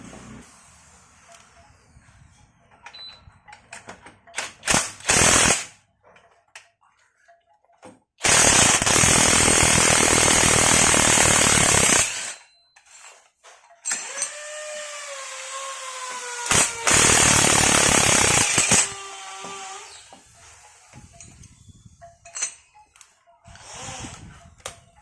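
An impact wrench loosens bolts on the front suspension of a Suzuki Ertiga, firing in three loud, sustained bursts of several seconds each, separated by quieter clanks and workshop handling noise.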